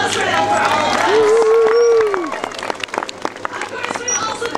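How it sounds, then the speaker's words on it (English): Spectators at a dolphin show clap and cheer in a loud crowd wash, with a sustained whistle-like tone gliding through the middle, then scattered sharp claps carrying on to the end. "How about a big round of applause for them for all of us?"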